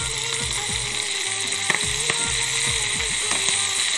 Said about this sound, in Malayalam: നല്ലോണം ഒന്ന് ഫ്രൈ ആവട്ടെ